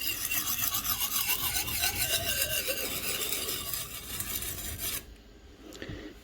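A knife is drawn across a coarse sharpening stone in a continuous close, loud rasping grind that stops abruptly near the end, leaving a quieter tail. No one speaks.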